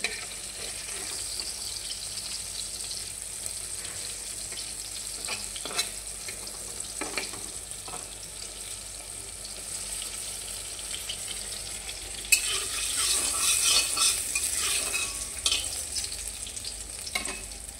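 Continuous sizzling of food frying in a pan, with occasional stirring clinks, growing louder and brighter near the end.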